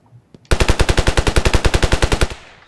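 Rapid automatic gunfire from a video game, a burst of about twenty evenly spaced loud shots over two seconds, preceded by a couple of faint clicks and ending in a short decaying tail.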